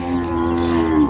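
At a dairy cattle market in Dinajpur, a heifer calf lets out one long, sustained moo, loud and close, held steadily without break.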